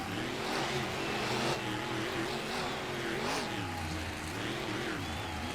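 Monster truck engines roar at a race start line, their pitch rising and falling as they rev and pull away, a loud continuous drone with a crowd-like wash behind it.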